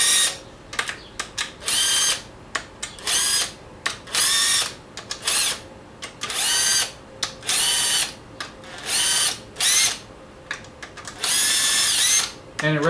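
Power drill spinning bolts out of a BMW N54 engine's cam and VANOS area, about ten short whirring bursts in an irregular rhythm with brief pauses between them, close and loud.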